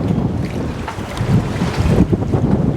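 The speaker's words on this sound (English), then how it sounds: "It's getting windy." Strong wind buffets the microphone with loud, rumbling gusts that rise and fall, and no one speaks.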